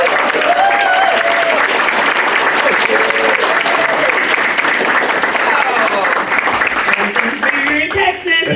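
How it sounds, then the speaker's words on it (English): Convention audience at a Texas fan event applauding actress Melinda Clarke, a loud, dense, sustained ovation with cheering voices and whoops rising over the clapping, easing slightly near the end. "let's give a big Texas round of applause for Melinda Clarke"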